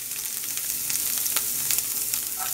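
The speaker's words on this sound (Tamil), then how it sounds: "பூண்டு எல்லாத்தையும் சேர்த்துட்டு நல்லா வதக்குங்க." Garlic, ginger, green chili, cinnamon and fennel sautéing in oil in a pan while making mutton liver pepper fry, a steady soft sizzle with faint crackles and occasional stirring, alone and close.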